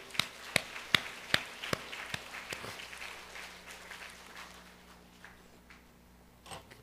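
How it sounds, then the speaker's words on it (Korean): A church congregation claps during a Sunday festival worship service, beginning with a run of sharp, separate claps that loosen into a softer scattered patter, with a last brief flurry at the end and no speech. "하나님께 박수의 영광을."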